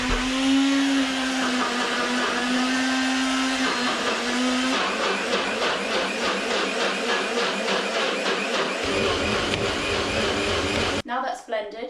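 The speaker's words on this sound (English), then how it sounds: "Whack it all in your blender. Now this is going to struggle a little bit" Kitchen blender churning meal prep ingredients, loud and close, the motor straining at first with a steady pitch, then a rougher chopping whirr, stopping abruptly near the end while a person talks over it.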